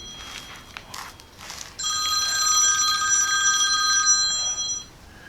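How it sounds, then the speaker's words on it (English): A telephone rings with a bright, sustained electronic tone for a few seconds after some faint handling noises, fairly close with no talking. "the phone is ringing, always."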